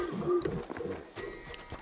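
A horse in a video game, its hoofbeats and snorting sounding close and loud through the short clip, with faint talk mixed in.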